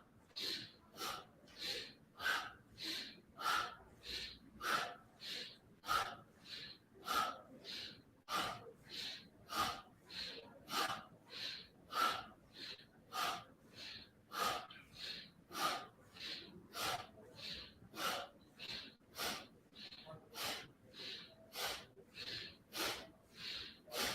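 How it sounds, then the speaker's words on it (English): Forceful rhythmic breathing during a yoga session, about thirty sharp, evenly paced breaths heard close and steady, each one a quick airy rush. "nice powerful breath"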